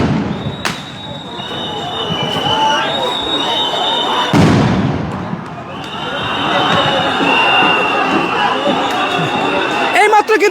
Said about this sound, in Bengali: কিন্তু পুলিশ সাউন্ড গ্রেনেড নিক্ষেপ করে